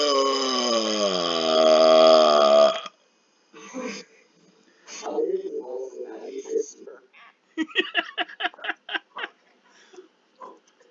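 A long, loud, drawn-out burp opens close up, then gives way to a voice and other people speaking in short bursts.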